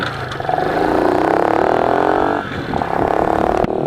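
A motorcycle fitted with a cheap, poorly tuned carburettor starts up and revs close by. The engine hums steadily and loudly, rises and falls, briefly dips, then revs again. No one speaks.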